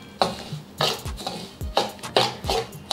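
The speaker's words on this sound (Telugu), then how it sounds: "రవ్వను వేసుకొని వేయించుకోవాలి." A utensil stirs semolina roasting in ghee in a pan, making rhythmic scraping and clinking strokes about every half second, close and clear, with a faint sizzle underneath and no voices.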